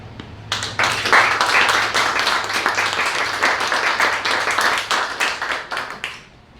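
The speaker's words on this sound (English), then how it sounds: "again, a big round of applause for everyone on the panel today" Steady applause from a studio audience for a discussion panel, many hands clapping together for about five seconds before tapering off.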